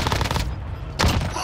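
Warzone gunfire on Rebirth Island: bursts of rapid shots fill the first half-second, a brief lull follows, then another loud volley near the end.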